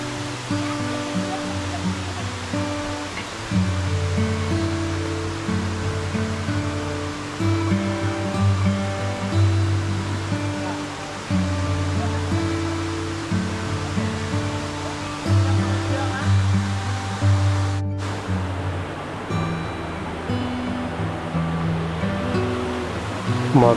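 Yarravaram waterfall roars with steady rushing water, a broad continuous wash heard close, with faint voices at times beneath the noise.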